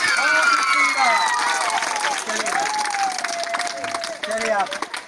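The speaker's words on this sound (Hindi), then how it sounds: "एक बार जोरदार ताली बजाइए, जोरदार।" An audience at a live stage quiz show claps and cheers in a broad, loud wash that rises and falls, with voices speaking and calling out over it.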